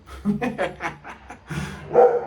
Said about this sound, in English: there's another dog that's yapping in the hallway